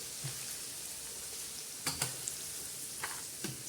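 Garlic for a spicy pickle fries in hot oil with a steady broadband sizzle, broken by a few soft scraping stirs of a spoon in the pan; no voices.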